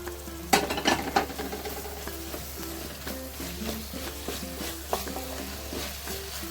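Finely chopped tomatoes, three of them, frying in a pan for paneer masala, with a soft steady sizzle under repeated scraping and clinking of a spoon stirring against the metal, close and fairly quiet.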